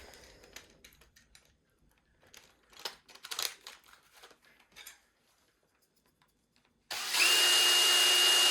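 Scattered tapping and rattling clicks, then after a short silence a power drill whirs loudly and steadily for the last couple of seconds.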